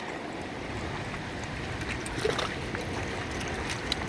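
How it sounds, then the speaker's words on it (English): Water is poured over freshly caught bluegill, a steady splashing and sloshing at close range with a few sharp knocks from the container, set against open outdoor noise by a river. "And I gotta get some more water on those bluegills."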